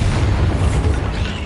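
A Bombarda blasting spell detonating in the Hogwarts Legacy video game, a loud, low, rolling boom with a gritty rumbling tail that holds steady for over a second.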